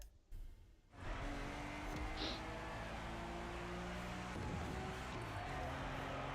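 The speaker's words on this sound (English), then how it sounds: "this car should be sounding a lot louder than it actually was" A car engine from The Crew Motorfest racing game hums in a steady, muffled drone at low volume, sounding quieter than expected, with faint tyre noise running underneath.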